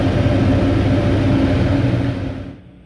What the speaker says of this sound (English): This is the sound of the vacuum.